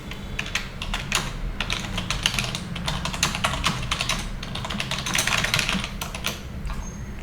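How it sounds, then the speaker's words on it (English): Someone types quickly on a computer keyboard, a dense run of clicking keystrokes heard close and clear, steady throughout with brief pauses and no talking. "let me type in here something"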